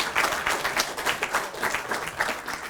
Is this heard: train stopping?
no